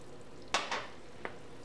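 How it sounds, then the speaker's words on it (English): Stained glass candy mixture of oil and food coloring stirred in a bowl, heard as a few quick scraping strokes, one louder swish followed by a fainter one and a small clink, all quiet against a low room hiss. "Now just stir it"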